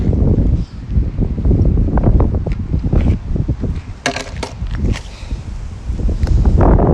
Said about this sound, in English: That wind was pushing me.